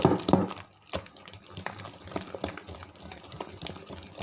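Thick urad dal batter mixed with chopped green chillies and cumin is stirred by hand in one direction, giving soft wet squelching and slapping sounds, close and irregular, with a brief voice near the start.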